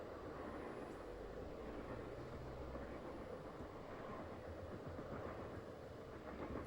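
A train rolls through a canyon in the Nancy Drew game Last Train to Blue Moon Canyon, a steady low rumbling drone with faint rhythmic rattling of the cars, continuous and muffled, without speech.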